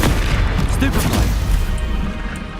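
Spell impacts in Hogwarts Legacy, a stunning Stupefy blast among rapid combat casting, heard as loud booming bursts and crashes over dense, continuous battle noise with a voice shouting spell names throughout.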